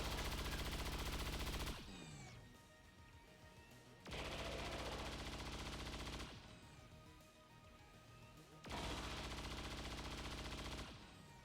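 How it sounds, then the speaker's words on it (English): Three sustained bursts of cyclic machine-gun fire in XCOM 2 Long War, each a dense roaring stream lasting about two seconds, separated by quieter gaps with clattering debris and echoes. "Pop that running gun, and then cyclic fire."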